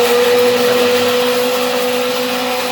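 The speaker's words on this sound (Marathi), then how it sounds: "लगेच फक्त थोडासा मिक्सर फिरवून घ्यायचा" Mixer grinder whirring loudly and steadily as it grinds red chili, dry chili and curry leaves for a raw mango pickle, a close, constant motor drone with a high hum and no pauses.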